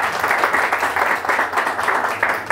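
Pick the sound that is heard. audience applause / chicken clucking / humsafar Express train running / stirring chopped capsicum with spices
audience applause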